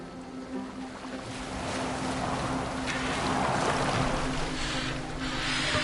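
A boat sails across open water in the video game Assassin's Creed Valhalla, a steady wash of waves and rushing wind building slightly louder over several seconds, with no voices.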